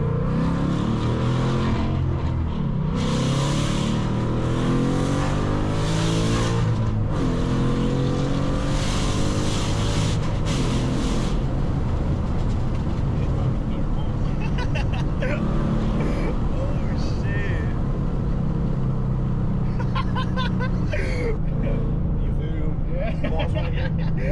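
A bolt-on modified Ford Mustang GT V8 roars while being driven, engine note rising and falling through acceleration with road and cabin noise, and people talking inside the car throughout.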